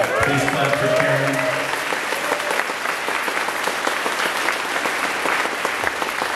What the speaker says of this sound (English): Please clap for Karen.